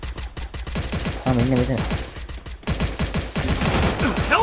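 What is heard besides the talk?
gunfire in the video game Counter-Strike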